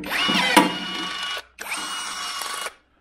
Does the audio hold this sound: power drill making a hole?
yes